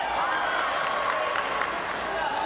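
A crowd cheers and applauds at a men's 80 kg taekwondo semi-final between Steven Lopez of the USA and Damon Sansum of Great Britain, a continuous arena roar with scattered shouts.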